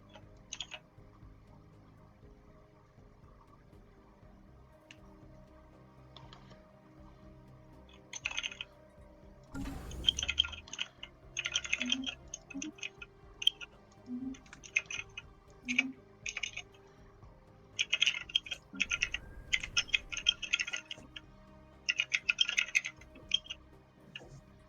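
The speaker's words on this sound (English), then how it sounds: "So much typing." Computer keyboard typing, quiet and close: irregular clusters of light keystroke clicks starting partway through and continuing in uneven bursts over a low steady background hum, with no talking.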